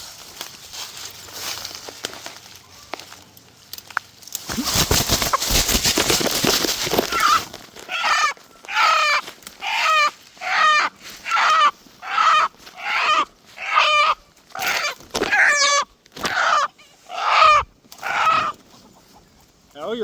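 Chickens on a small farm with goats nearby, clucking in a steady run of loud, close calls spaced about a second apart after a burst of rustling noise.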